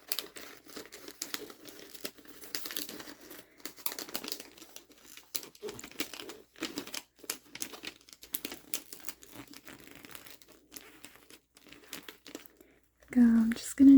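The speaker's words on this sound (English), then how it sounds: "now I'm going to fold in this other corner" Paper wrapping around a holiday gift is folded and creased at close range, giving soft repeated crinkles and rustles, with brief taped or pressed moments and a louder crinkle near the end; a soft-spoken voice talks quietly throughout.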